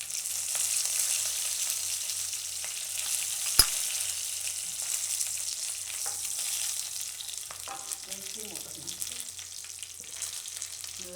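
Garlic, nigella seeds, cumin and curry leaves sizzle steadily in hot oil for Hyderabadi dum baingan, a loud continuous frying hiss with one sharp crackle and some stirring scrapes near the end, no talking.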